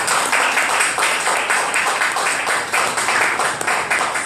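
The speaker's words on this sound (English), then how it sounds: "Clap now." An audience claps on request at a talk on financial equilibrium, a dense, steady burst of applause from many hands that stays loud and even throughout with no voices over it.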